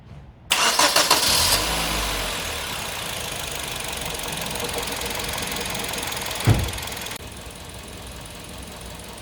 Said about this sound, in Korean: 일단 시동 걸어 볼게요. 시동 걸고